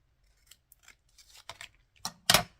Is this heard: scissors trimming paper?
yes